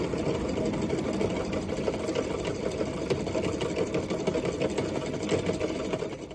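Fishing line winds onto a baitcaster reel spool under tension, a continuous close whirring buzz held steady at an even pace throughout, with no voices.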